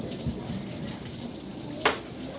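Heavy rain pours down during a storm over a flooding backyard, a steady close wash of water with a few thumps and one sharp louder splash, no voices.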